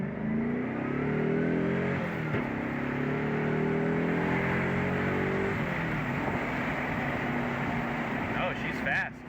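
A 1996 Chevrolet Corvette Grand Sport engine roars steadily as it accelerates hard, rising in pitch through several gears, loud and close, with a brief shift partway through.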